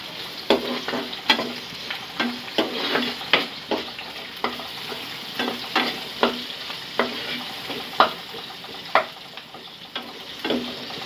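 Prawns frying in a pan of leafy greens (oler shag) while being stirred, with a steady sizzle broken by regular scraping strokes about once a second, close and moderately loud, no talking.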